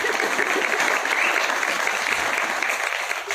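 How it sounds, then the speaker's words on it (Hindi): Loud, dense applause from a live audience at a talk held in Film City, continuous and close for the whole stretch with no speech over it. "आप लोग सब लोग मिलकर तालियां बजा सकते हैं"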